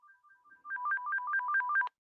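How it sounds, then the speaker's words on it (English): A phone rings for an incoming call, a soft electronic two-tone warble that swells into a louder rapid trill, then cuts off abruptly. "somebody's called us on the phone"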